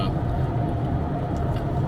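A Range Rover L322 is driven gently on a commute, heard from inside as a steady low engine and road rumble, constant and fairly loud, with no talking.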